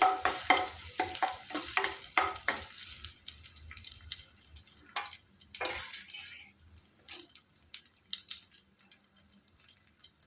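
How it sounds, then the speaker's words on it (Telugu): Two crushed garlic cloves dropped into hot oil in a pan, giving bursts of crackling sizzle and utensil clatter at first, then settling to a quieter, steady frying hiss nearby. "ఆయిల్ వేడెక్కిందండి ఒక రెండు వెల్లుల్లిపాయలు ఎట్లా చెదక్కొట్టి వేసుకోవాలి"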